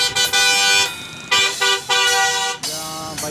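Karachi road traffic with repeated car horn blasts, several long and short honks overlapping at close range over a constant rumble of vehicles on a bypass.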